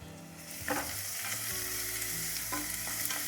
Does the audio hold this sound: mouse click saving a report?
no